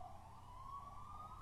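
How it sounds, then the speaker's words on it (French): An ambulance siren wails steadily in the distance, a single rising tone with low traffic rumble beneath it. "c'est une ambulance, la joie d'habiter près de 2 hôpitaux"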